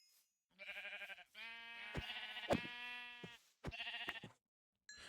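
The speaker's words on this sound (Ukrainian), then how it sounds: "знайшов нарешті вівцю, можна вже спокійно її вбивати" Repeated bleats from Minecraft sheep in the Java Edition 1.12.2 game, several separate calls in a row with short silent gaps, clear and close with no talk over them.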